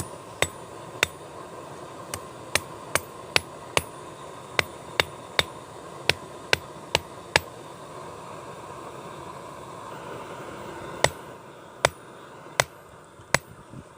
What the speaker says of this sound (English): I was quite happy to use a heavier hammer.